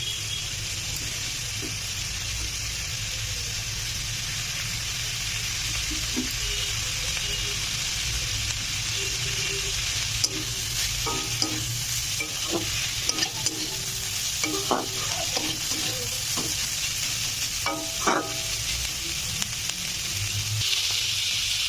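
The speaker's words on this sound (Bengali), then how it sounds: "তারপর এর মধ্যে অ্যাড করছি ক্যাপসিকাম" Strips of capsicum fry in a hot pan, giving a steady loud sizzle throughout, while a spatula stirs and scrapes with scattered clinks and knocks, close by and growing busier in the second half.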